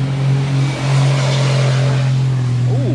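A pickup truck pulls away outdoors, its engine note loud and steady with a low rumbling drone that swells slightly as it drives off.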